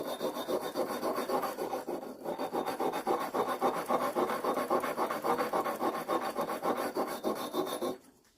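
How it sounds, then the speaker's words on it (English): A wire brush scrubs rust off an old tack hammer in fast, steady back-and-forth rasping strokes, close and continuous for several seconds before stopping abruptly. "let's use the wire brush to get in little nooks and crannies"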